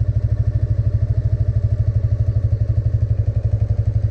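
Motorcycle engine ticking over in first gear as the clutch is slowly let out, a steady rapid low thumping pulse, close and even, with no one speaking.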